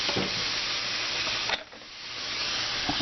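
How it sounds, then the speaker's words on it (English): Burger meat fries in a pan, giving a loud, continuous sizzling hiss that briefly dips midway, then swells back as the patty keeps cooking, with no talking. "Oh, can you hear that sizzle?"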